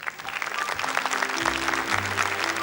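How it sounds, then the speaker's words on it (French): A studio audience applauds on a 1981 French television talent show for young fans, dense clapping running continuously throughout, with faint background tones beneath. "On l'applaudit."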